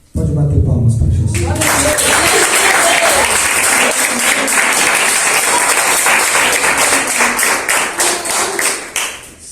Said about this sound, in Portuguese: Pode bater palmas para Jesus.